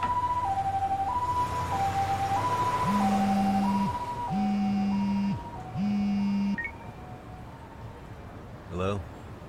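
Ambulance siren in the video game Lost Judgment, a two-tone wail alternating pitch, joined by a deeper repeating horn tone, loud then easing off as it arrives, with a brief chirp at the end.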